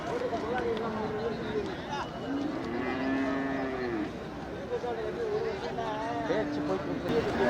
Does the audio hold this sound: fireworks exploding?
no